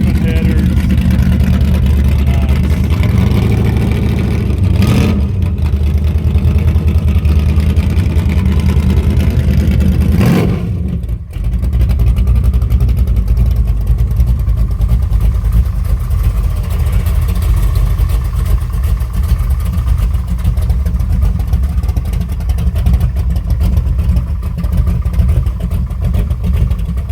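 A custom hot rod engine with open headers and a 3.5-inch stainless steel exhaust idles loud and steady at close range, with a couple of brief revs, while people talk over it.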